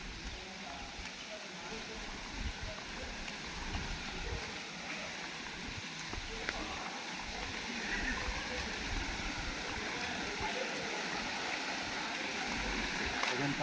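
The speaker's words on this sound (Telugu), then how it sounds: "అదే వెనకాల కనపడుతుంది వాటర్ ఫాల్స్. కానీ వాటర్ ప్రజెంట్ చాలా తక్కువ పడుతుంది." Low flow of water at Bhairavakona waterfall, a steady broadband rush like a stream running continuously at moderate level throughout.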